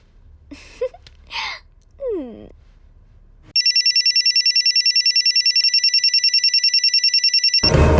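After a few soft vocal sounds, a telephone bell rings loudly and continuously in rapid pulses for several seconds, then cuts off.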